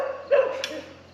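A dog barks a couple of times at medium distance outdoors on a farm, short sharp yelps rising over a quiet background before fading.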